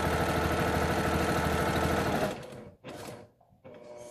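Sewing machine back stitching fabric for a child-sized 3D box face mask, a steady rapid mechanical whir for about two seconds, then stopping, with short bursts of running after.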